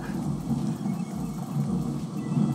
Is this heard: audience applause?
no